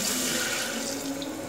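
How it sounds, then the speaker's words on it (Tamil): A glass of water poured into liver gravy in a pot, a steady close splashing rush of running water with no speech. "ஒரு கிளாஸ் தண்ணி மட்டும் ஊற்றிட்டு"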